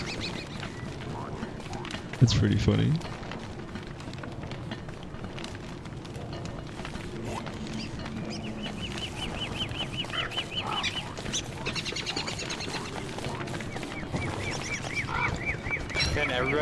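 Tall bird in a survival video game calls out with a squawking, honking burst near the start, then background game noise continues while someone talks.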